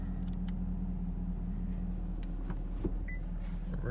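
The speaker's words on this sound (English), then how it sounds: "I'm gonna turn the parking brake off and back it into a parking spot" A 2018 Camaro ZL1 1LE idles low and steady while backing into a parking spot, a constant deep engine rumble with a faint tick and a brief light squeak near the end.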